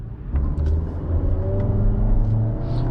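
A 2018 Nissan Rogue SL pulls away under acceleration, with a low steady engine drone and road rumble heard from inside the cabin that holds even and close for a few seconds.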